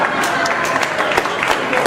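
A crowd at a public meeting on security and justice breaks into loud, dense applause, a continuous close roar of clapping with some crowd noise mixed in.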